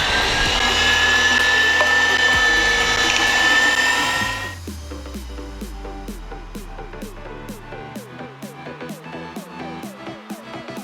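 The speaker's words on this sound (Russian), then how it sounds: "Теперь необходимо нам прокрутить это мясо. Включаем мясорубочку." An electric meat grinder roars loudly as it minces meat, then cuts off about halfway, leaving a quieter, irregular rhythmic clatter.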